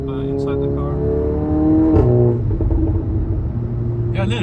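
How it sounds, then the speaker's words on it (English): A VW Golf 7.5 R with an Akrapovic exhaust drones with a low, steady burble heard from inside the car, marked by a single sharp pop midway, while people talk over it. "it has that, Volkswagen burble"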